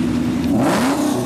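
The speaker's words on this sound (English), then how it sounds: "that's James driving" A Subaru Forester accelerating on the road, its engine note rising steadily and loud, with a broad noisy roar underneath and no talk over it.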